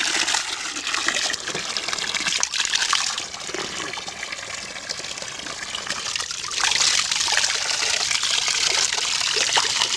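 Mineral water from a spring well runs and trickles steadily, a continuous close splashing flow that swells louder toward the end, with no talking.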